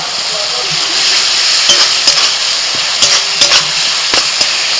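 Spice paste of Kashmiri chili, coriander and cumin powder with a splash of water and chopped tomato frying steadily in a pan, a constant hiss broken by a few clinks and scrapes of stirring.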